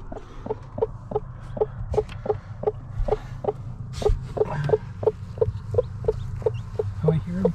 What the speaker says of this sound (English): Oh, I hear them chirping.